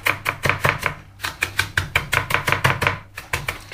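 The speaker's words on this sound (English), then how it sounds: "If you want to do it finely chopped, as you're chopping, just do it a little bit more finely" A knife chops spring onion on a board for a Thai red chicken curry, a brisk, steady run of sharp close taps with only short pauses between bursts.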